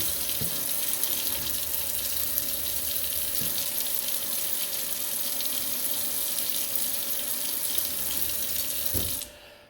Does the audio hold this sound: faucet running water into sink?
yes